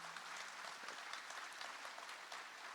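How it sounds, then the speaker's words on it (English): An audience gives a round of applause at the Robins Air Force Base State of the Base event, steady clapping from a large crowd that is faint and distant and holds evenly throughout. "That deserves a round of applause."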